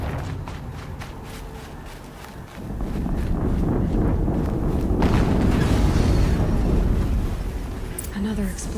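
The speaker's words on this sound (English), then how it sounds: "Another explosion." A deep, booming explosion in the video game Horizon Zero Dawn swells suddenly and rumbles loudly for several seconds before slowly fading.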